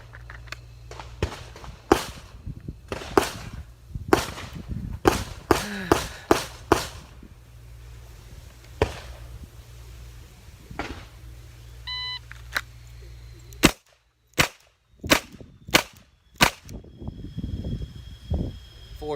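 Ruger GP100 10mm Match Champion revolver fired at a shooting range: sharp, loud shots in quick strings, with a pause and an electronic beep between them, near and crisp, with brief talk between strings.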